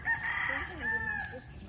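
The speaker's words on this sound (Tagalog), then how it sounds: "Daming manok." A rooster crows at a distance at a resort in Pililla, Rizal, Philippines, a drawn-out call that rises and falls, faint against steady outdoor background noise.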